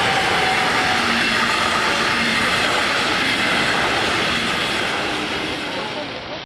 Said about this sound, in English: The first layout that caught my attention at the National Train Show in 2018 was this European 3-rail HO scale layout.